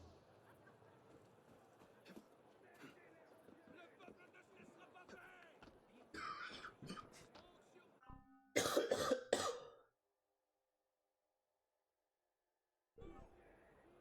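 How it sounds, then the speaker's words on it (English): A sick man coughs in a loud, harsh burst of about a second during Assassin's Creed Unity gameplay, with game sounds and murmuring beneath it before the audio drops into near silence. "Really do apologize for coughing so frequently."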